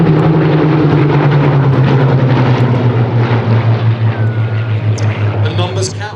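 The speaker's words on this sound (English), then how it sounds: "Time to perfection with the arrival of that Hurricane as well." A Hawker Hurricane, a 1940-era propeller fighter, arrives at the Sywell Airshow 2024, its piston engine droning loudly and steadily before fading and pulsing as it passes, with people talking over it.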